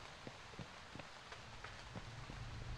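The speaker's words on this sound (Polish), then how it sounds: "Pada deszcz." Rain falls in the horror game Fobia St. Dinfna Hotel, a soft, continuous patter of drops with a few faint scattered taps, quiet and steady with no talking.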